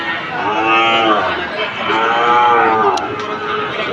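Sahiwal bull calves on a farm bellow loudly and close by, drawn-out overlapping moos rising and falling twice, with faint voices in the background.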